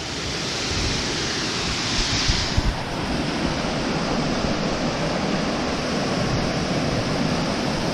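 Water pouring out through a leaking dam wall into the Swartrivier like many small waterfalls, a loud, constant rushing roar with no break.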